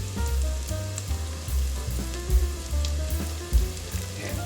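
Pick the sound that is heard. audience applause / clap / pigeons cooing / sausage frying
sausage frying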